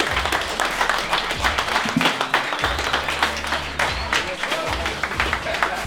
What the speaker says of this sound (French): Donc merci pour elles, applaudissez-les.